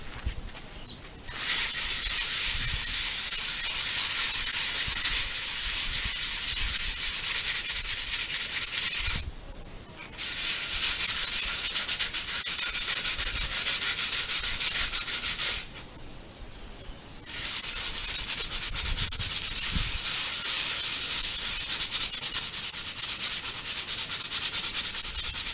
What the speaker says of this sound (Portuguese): Eu vou ter que lixar ela.